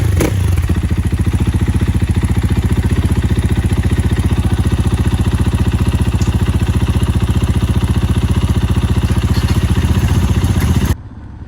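A touring motorcycle fires up and settles into a loud, steady, close idle, its rapid engine pulses chugging evenly for about eleven seconds before cutting off abruptly.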